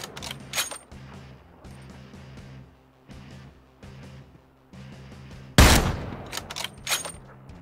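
Gunfire close beside the player in Ring of Elysium: rhythmic bursts of rapid shots repeating at steady intervals, then a sudden loud blast followed by sharper nearby shots.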